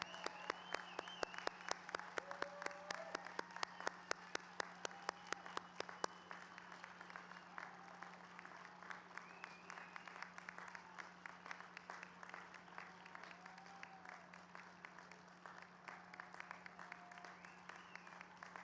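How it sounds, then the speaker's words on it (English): A graduation audience applauds in a long round, with a few distinct near claps standing out early before settling into a fainter, continuous patter, with a steady hum and faint voices beneath. "offering one last enormous round of applause for the College of Humanities and Social Sciences graduating"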